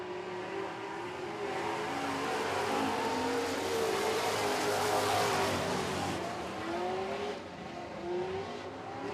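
Super trucks race on a dirt track, engines roaring and revving as they drive off a turn, a loud steady rumble that swells and fades as the pack passes, with no talking.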